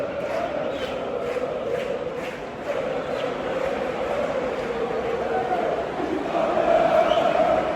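A dense, roaring football stadium crowd in Porto fills the air continuously, loud and unbroken, with a general swell of voices and cheering from Vitória fans that grows toward the end.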